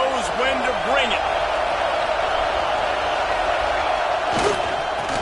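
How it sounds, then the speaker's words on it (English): A stadium crowd in an NCAA football video game roars in a broad, steady wash. Commentary voices run over it and brief whooping, swooping tones rise near the start and the end. "This crowd knows when to bring it."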